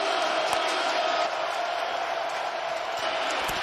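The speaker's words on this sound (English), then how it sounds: "we hear the crowd getting louder and louder and louder, especially on a critical 3rd and long" A football stadium crowd roars during a tense third-and-long in an XFL game, a dense, sustained wash of cheering that stays loud throughout with faint commentary mixed under it.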